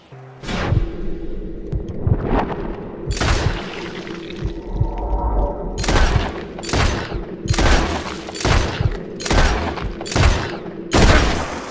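Repeated bursts of gunfire in the Western video game Red Dead Redemption, sharp loud shots arriving in uneven clusters over a steady low background, fairly close, with no talk.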